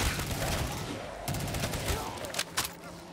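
Rapid bursts of automatic AK rifle fire in a modded gun game, dense and loud, with short pauses and a few sharp single shots near the end.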